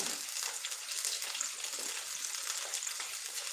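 Green chillies fry in a pan of hot oil, producing a dense, even, hissing sizzle that holds steady and close without pause.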